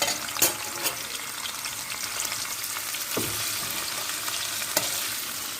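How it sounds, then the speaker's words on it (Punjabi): Ginger sizzles as it roasts in a pan for radish bhurji, a soft continuous fry punctuated by a few distinct scrapes of a stirring spoon, with no voices. "1 ਮਿੰਟ ਬਸ ਇਹਨੂੰ ਸੇਕ ਲਵਾਵਾਂਗੇ"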